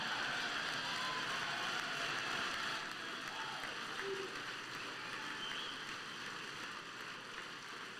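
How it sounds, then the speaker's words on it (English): Applause at a political rally: a dense, steady wash of many hands clapping heard from a distance, fairly faint and unbroken for several seconds, with no clear voices on top. "She has a very loud clap."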